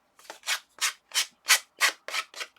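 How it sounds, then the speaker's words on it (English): A sanding block rubs the edge of a paper craft tag in seven quick, even strokes, each a short dry scratchy rasp, close and clear with no talking. "I always keep a sanding block handy for stuff."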